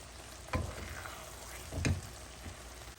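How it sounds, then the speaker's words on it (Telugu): Two soft scraping stirs of a spoon through tomato curry with coriander in a pan, close and brief with a gentle sizzle underneath, and no voices. "ఇప్పుడు ఒకసారి కలిపేస్తా, ఎందుకంటే కొత్తిమీర వేసాను కదా అందుకు."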